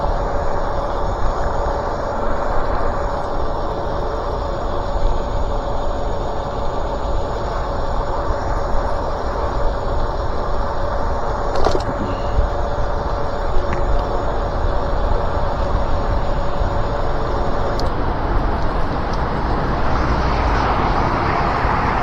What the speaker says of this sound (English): It's the freeway! It's very loud right here.